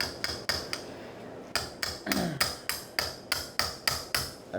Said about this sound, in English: So we use a slap hammer now to take out the joint finder.